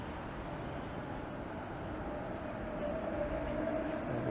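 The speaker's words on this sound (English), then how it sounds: "there is a 506 Carlton streetcar" A 506 Carlton streetcar on Gerrard Street in Toronto, its steady rumble and rolling hiss heard from a moving vehicle, growing slightly louder toward the end.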